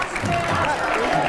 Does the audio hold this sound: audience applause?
yes